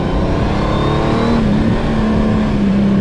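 Honda Goldwing motorcycle engine revving up close, a loud continuous growl whose pitch rises and then holds steady over a few seconds, with no talking.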